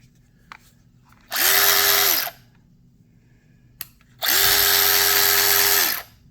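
A DeWalt 12V 1/4-inch drive cordless ratchet, powered by a 20V battery through an adapter, whirs loudly in two bursts of about one second each, separated by a pause with faint clicks.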